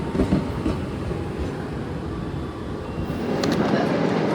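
A Mutiara Timur passenger train rumbles along the rails, heard from inside the dining car as a steady low roar with faint wheel clatter that swells slightly near the end, with no one talking.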